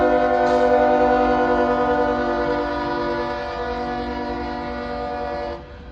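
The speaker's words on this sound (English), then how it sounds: "this would be our last train of the night" Night freight train horn blaring loud and sustained at Folkston, Georgia, a rich chord holding for several seconds before cutting off, with faint rumble and rail clatter of passing cars beneath.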